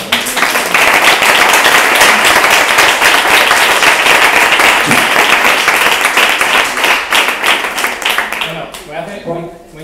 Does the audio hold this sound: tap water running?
no